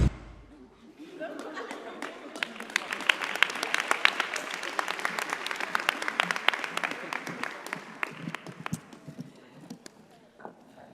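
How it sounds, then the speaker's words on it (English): Graduating fellows receive a long, steady round of audience applause at a fellowship graduation ceremony, dense clapping swelling and then fading out, with scattered chatter mixed in. "Let's give them all a round of applause."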